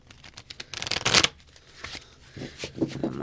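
New, stiff, thick tarot cards are shuffled by hand in a dense riffling burst, then lighter scattered flicks and taps, close by, with a voice talking faintly in the background near the end.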